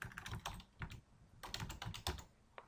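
A sheet name is typed on a computer keyboard in Excel: two quick runs of close, crisp key taps separated by a short pause, ending with a single final tap, in a quiet room.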